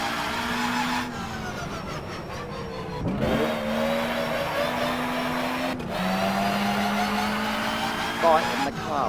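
Stock car and national hot rod engines drone and rev continuously on a short oval in rFactor, with pitch climbing and dropping through gear changes around the lap and several cars blending at close range.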